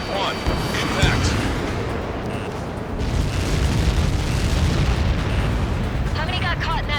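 Massive blast rumble from Helios projectile impacts in Ace Combat 7, a sustained heavy roar with crackling, and radio chatter breaking through near the end.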